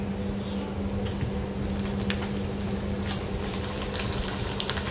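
Potato wafers frying in hot oil, giving a steady, dense crackling sizzle that runs throughout with scattered louder pops and no talking.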